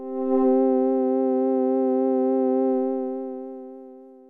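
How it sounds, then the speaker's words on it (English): A plain synth pad with no pitch or filter sweeps, holding one steady harmonic-rich tone that swells in briefly at the start, sustains evenly and then fades out over about four seconds. "If we turn off the pitch and filter sweeps, we get a much more plain sound that's reminiscent of the basic pad we made earlier,"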